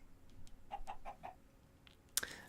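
A Minecraft chicken gives a short run of quiet clucks, four or five quick soft notes close together, followed by a brief sharper sound near the end against a faint background.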